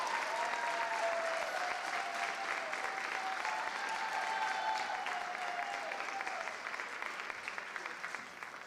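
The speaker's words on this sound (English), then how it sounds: "Let's give Trevin a round of applause for his service to Eastmont Middle School." A middle school awards ceremony audience claps for Trevin in steady, sustained applause lasting several seconds, a dense even patter that slowly tapers near the end, with faint voices briefly audible underneath.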